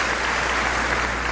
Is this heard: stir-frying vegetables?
no